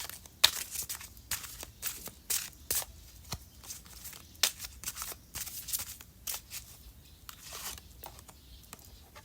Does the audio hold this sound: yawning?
no